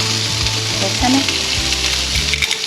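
Balsamic vinegar hits a hot pan of tofu stir fry and sizzles briefly and loudly, with stirring clanks of a utensil against the pan ticking at a regular rhythm underneath.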